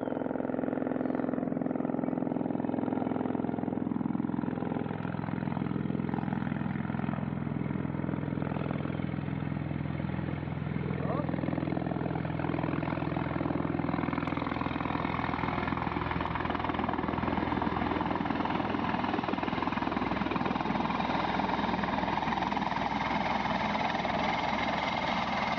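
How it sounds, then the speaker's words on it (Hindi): A 7-seater helicopter arrives with its engine running steadily throughout, a loud continuous whine and rotor thrum that swells and grows brighter and rougher toward the end as it comes in close. "फाइनली हेलीकॉप्टर आ चुका है जो है 7 सीटर, इसे चॉपर कह सकते हैं।"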